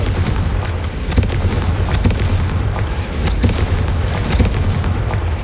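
Repeated Confringo blasting-spell explosions from the Hogwarts Legacy video game: dense, loud booming bursts arriving every second or so over a continuous rumbling low-end din, with no speech.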